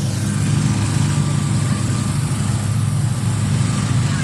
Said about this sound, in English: They're riding mowers.